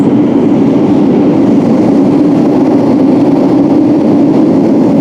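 A London train runs near Whitechapel with a loud, steady low rumble of wheels and carriage that holds constant throughout, with no voices.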